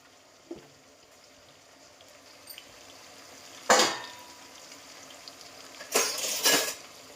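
Whole garam masala spices fry in a pan for a chicken fry dum biryani, giving soft, quiet crackling with a few brief metallic clinks of utensils against the pan and two louder bursts of stirring or scraping.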